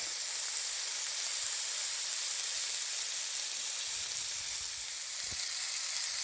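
Shrimp sizzle and fry in a pan for a homemade stir fry: a steady, close, fairly loud hiss that runs unbroken from start to finish, with no voices over it.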